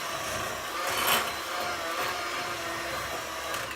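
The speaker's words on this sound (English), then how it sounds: "I thought this would come out a lot better just using the hand mixer." An electric hand mixer whirs steadily while blending a malted milk dessert dip, a continuous close motor drone holding an even level throughout with no talk.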